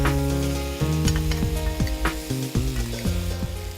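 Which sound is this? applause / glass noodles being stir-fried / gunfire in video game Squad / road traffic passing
glass noodles being stir-fried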